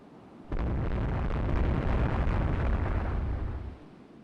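Naval guns firing in the Rule the Waves 3 warship game, heard as one loud, sustained rumbling blast lasting about three seconds before fading, with no talk over it.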